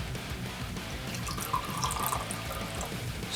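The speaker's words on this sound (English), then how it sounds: "let's get into the crack and the pour and see what this is like" Monster Strawberry Shot energy drink poured from the can, a soft steady stream of liquid trickling and fizzing into a container, close but quiet and continuous, with no talking.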